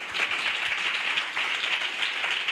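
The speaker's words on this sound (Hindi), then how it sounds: "जोरदार तालियां क्वायर के लिए बजाएंगे" A church congregation in Pakistan gives loud applause to the choir, a dense, steady wash of clapping from many hands that carries on without a break.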